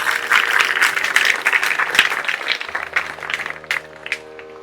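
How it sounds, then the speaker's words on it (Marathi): An audience claps in unison to a beat after a recited poem about a farmer father, the rhythmic applause loud and close at first, then thinning to scattered claps as it fades out. "छान टाळ्या वाजवल्या, तालात टाळ्या मस्त टाळ्या वाजवल्या"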